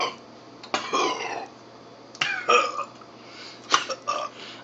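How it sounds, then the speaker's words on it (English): Several loud, drawn-out burps from a person after chugging Mountain Dew, three or four separate bursts spaced across a few seconds in a quiet room. "The unstopping burping"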